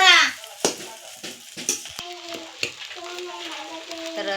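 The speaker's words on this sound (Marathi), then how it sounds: "आता इकडे साबुदाणा पण परतलेला आहे." Sabudana (tapioca pearls) sautéing in a pan makes a soft sizzle with scraping stirs and a few sharp clicks, while someone talks over the cooking in the second half.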